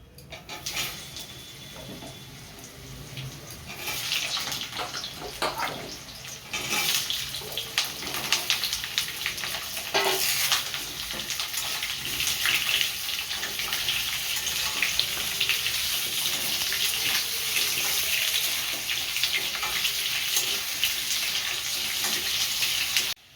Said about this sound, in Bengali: আলুটা ভেজে নিয়েছি, এই দেখুন আলুটা ভাজা হয়ে গেছে।